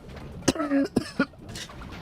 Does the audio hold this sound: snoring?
no